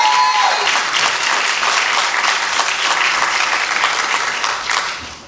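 Steady, dense applause from an audience at a spoken word poetry competition, loud and sustained before fading slightly at the end, with no talking.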